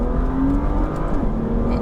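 A tuned Stage 1 BMW M2 with an N55 engine pulls hard from a standing takeoff, its engine note steady and loud with a rising whir throughout, no voices over it.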